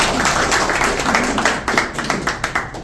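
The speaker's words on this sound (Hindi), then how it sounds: "इनके लिए ताली बजनी चाहिए थोड़ी सी यार" Audience of students at a mobile repairing training institute clapping for a returning former student, a dense burst of many hands that thins into scattered separate claps by the end.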